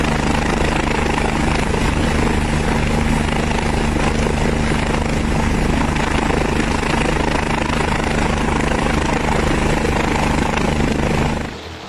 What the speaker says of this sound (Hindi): बर्फ की चट्टानों के बीच फंस चुके शख्स का हेलीकॉप्टर के जरिए रेस्क्यू